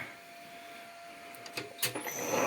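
A 1A616 metal lathe with a 1.5 kW, 1000 rpm motor runs while drilling, giving a steady close-up whine with a low hum, joined near the end by a few louder clunks and clatters.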